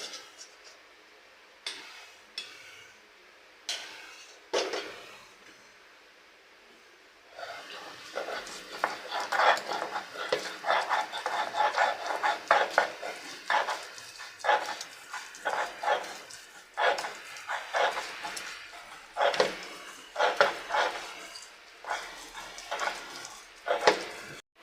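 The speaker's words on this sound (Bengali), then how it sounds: "শিলপাটায় বেটে নেব।" Boiled, cooled raw banana peel is ground by hand on a flat grinding stone, rough scraping strokes repeating in a steady back-and-forth rhythm, close and moderately loud, after a few scattered knocks at the start.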